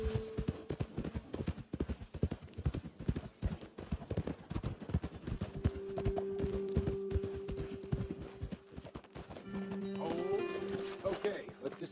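Horses' hooves in the Red Dead Redemption 2 video game, steady clip-clop at a walking pace, close and clear, with a spoken voice and a sustained music tone running underneath.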